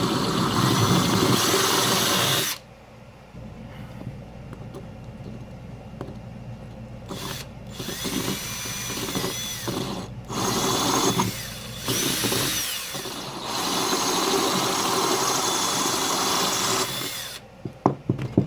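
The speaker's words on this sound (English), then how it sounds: "I'm going to drill this" A power drill bores a hole in an antique glass bottle, its steady loud whine running in long stretches broken by short pauses and restarts, close up, with no talking.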